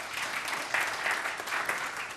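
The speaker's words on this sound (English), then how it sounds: "huge applause to Sayed and Academy" Audience applause at a youth entrepreneurs' investment forum in Kazan fills the moment, a dense, even patter of clapping from a seated crowd with no one speaking over it.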